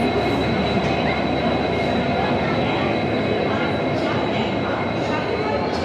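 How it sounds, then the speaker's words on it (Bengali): A WDG4D diesel locomotive hauls a Howrah–Puri train slowly out of the station, giving a steady, dense rumble of rolling wagons with faint wheel noise, while voices talk over it throughout. "এখন আস্তে আস্তে ছেড়ে বেরোচ্ছে।"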